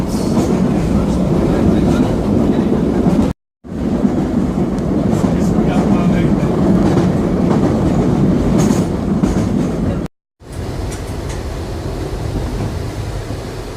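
A former London Underground train, tube stock now running on the Isle of Wight, rumbles along steadily with rail clatter, loud and close, with two brief silent gaps.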